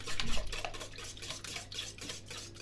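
Soft bun dough mixture is stirred in a bowl, giving a steady, quiet, rhythmic rubbing and scraping, close and without talk.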